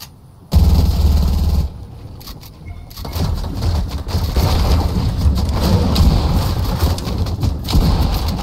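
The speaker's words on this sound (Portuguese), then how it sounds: "Dá um tiro, um tiro, um tiro." Rapid bursts of gunfire in the video game Fortnite, loud and close, with booms and a busy background of game sounds and no clear talk.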